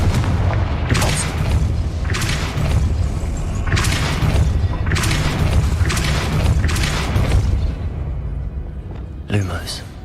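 Confringo fire spells blast in Hogwarts Legacy, a string of about seven heavy booming explosions spaced a second or so apart over a constant rumbling backdrop.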